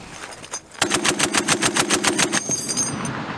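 .50 caliber heavy machine gun fires a fast, evenly spaced burst of about fifteen loud, booming rounds in under two seconds, during a live-fire exercise at Camp Fuji, with a ringing tail afterward.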